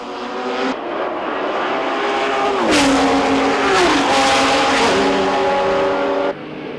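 Two Italian Ferrari race cars battle on a circuit at a historic Grand Prix event, their loud high-revving engines screaming past close by, pitch dropping as they pass, with tire noise.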